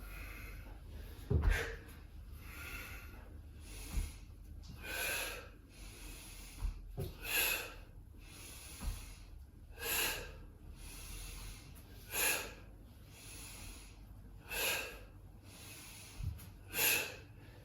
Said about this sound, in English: I'm just breathing out as I exert or lift up, and then breathing in as I come back and down